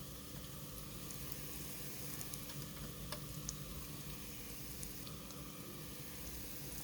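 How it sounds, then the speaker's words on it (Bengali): Garlic frying in a pan for a home-cooked prawn and pumpkin curry, a steady soft sizzle with faint crackles and ticks, quiet and continuous with no voices. "এই যে দেখেন রসুনটা ভাজা হয়ে গেছে"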